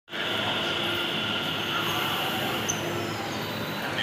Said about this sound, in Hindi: मेट्रो का वेट करते हुए, ये तीन व्यक्ति मेट्रो का वेट करते हुए